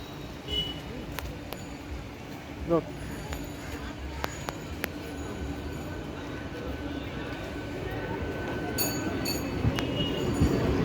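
A local train at Ramrajatala station on the Panskura line rumbles steadily, with clicks and squeals building toward the end, as people talk nearby.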